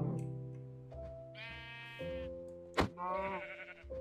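Several short sheep bleats sound in Minecraft, each a brief nasal cry spaced a second or so apart, with soft game music and a sharp click in the background.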